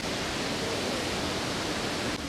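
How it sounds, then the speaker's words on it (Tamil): Meenmutty waterfall in Kerala roars as a steady, loud, dense wash of falling water that fills the whole stretch without pause, with no voices over it. "ஸோ இதுதான் அந்த மீன்முட்டி அருவி."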